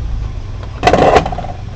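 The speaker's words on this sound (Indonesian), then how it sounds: "Eh buat mesinnya." An engine on the Jaya 65 fire-response unit cranks and catches at a market fire in Gambut, a short loud burst of starting roar lasting about a third of a second, then settling back into a steady low rumble.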